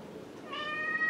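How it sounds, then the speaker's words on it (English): A cat gives one rising meow, close and clear, over a steady background hiss, with no one talking. "Yes, kitty, they agree."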